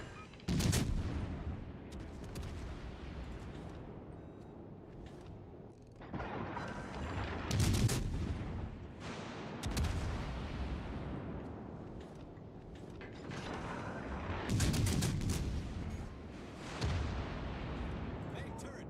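Warship main guns fire in the naval video game World of Warships Legends: heavy booming salvos strike every few seconds, each followed by a rumbling tail and a steady background drone between shots.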